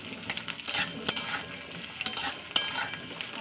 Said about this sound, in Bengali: আমি আলুটাকে ভালো করে একটু ভাজা ভাজা করে নেবো